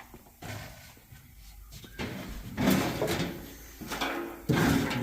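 Several drawer bumps and slides in a room where a car's engine bay is being masked off for paint, arriving as three loud clunks near 2, 2.7 and 4.5 seconds with quieter rustling between them.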